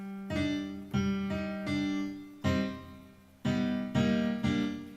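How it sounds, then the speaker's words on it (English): A voice sings rolled-tongue trills in a series of sustained pitched phrases, each buzzing note starting abruptly, with short breaks between. "Let's do another exercise with our tongue trill."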